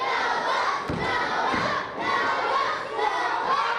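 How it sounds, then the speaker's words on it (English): Basketball game crowd cheering and shouting in a gym, a dense continuous roar with a couple of thumps, loud and sustained throughout. "Listen to the crowd."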